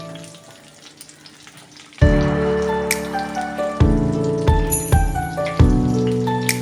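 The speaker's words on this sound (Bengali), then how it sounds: "এবার আমি এর মধ্যে দেব পেঁয়াজ আর কাঁচা লঙ্কা।" Chopped onion and green chili hit hot oil partway through, setting off a sudden loud sizzle that swells in repeated surges over a steady tonal background.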